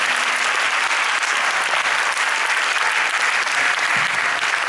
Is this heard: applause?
yes